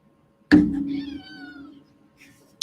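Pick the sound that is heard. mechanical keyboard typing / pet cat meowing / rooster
pet cat meowing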